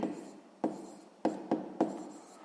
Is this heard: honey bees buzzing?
no